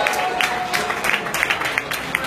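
Audience clapping at the Winter Film Awards ceremony for the horror short film nominees, a dense, close wash of many hands with a few sharper claps standing out.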